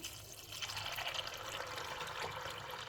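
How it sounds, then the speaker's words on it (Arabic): Water poured from a container over fava beans and lentils set to soak in a bowl, a steady close splashing pour that runs without a break for about two and a half seconds. "هنزودهم ميه بالشكل ده"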